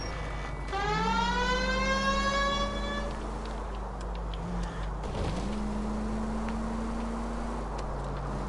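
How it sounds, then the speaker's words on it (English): Police siren in the 1940s Los Angeles crime game L.A. Noire, a steady rising and falling wail that sweeps up and holds, fades briefly midway, then returns and keeps going near and loud. "I think we need a siren."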